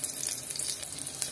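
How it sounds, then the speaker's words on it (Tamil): Mustard seeds, garlic, green chili and curry leaves sizzle and crackle steadily in hot oil for a rava upma, a close, even frying hiss with no voices. "அப்புறம் கடுகு போடுறோம், அப்புறம் பூண்டு, பச்சை மிளகா, அடுத்து கருவேப்பிலை,"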